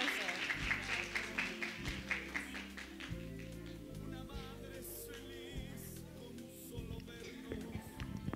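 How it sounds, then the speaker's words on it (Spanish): A congregation claps during a Sunday church service with music sustaining underneath. Brisk clapping fills the first few seconds, then thins out while the music continues. "Un aplauso."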